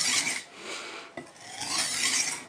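A knife blade is drawn across a sharpening stone in short abrasive strokes, a gritty rasping scrape repeated about three times, close and fairly quiet with no other sound.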